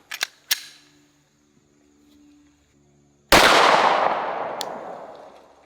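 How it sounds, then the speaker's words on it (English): A pistol with a red dot sight fires at a cardboard target 25 yards away outdoors. After a few faint clicks of handling comes one sharp, very loud shot whose boom rings and fades over about two seconds. "we're gonna put 3 shots, or at least try to put 3 shots on that piece of cardboard"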